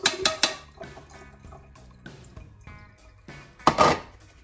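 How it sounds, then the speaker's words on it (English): Sweet corn rinsed in a sieve under running water: a close splash and trickle with metallic clinks of the sieve, loudest in short bursts at the start and again near the end. "And give it a quick rinse."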